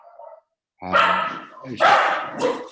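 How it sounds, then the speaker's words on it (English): Dogs bark loudly in two or three bursts close by, with a brief faint yelp at the start and a pause before the barking. "Just please excuse the dogs."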